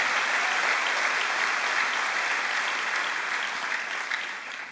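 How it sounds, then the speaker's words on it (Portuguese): A church congregation gives a warm, dense round of applause for a pastor, steady and full before easing slightly at the end, with no talk over it. "Eu gostaria que os irmãos dessem um aplauso pela vida do pastor Josué."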